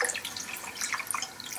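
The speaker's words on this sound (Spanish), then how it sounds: "Es el momento de sacarlos del agua y de pelarlos." Water dripping and trickling as peeled-ready tomatoes are lifted out of a pot of hot water, a steady close splashing patter with scattered bright drops throughout.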